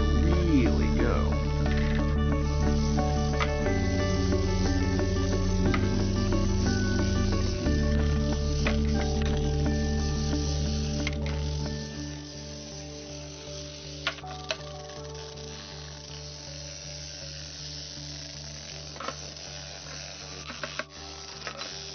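A small vibrating motor drives a toothbrush bristlebot robot on battery power, giving a steady buzzing drone with tonal harmonics that drops in level midway and continues more quietly, with faint ticks and rattles.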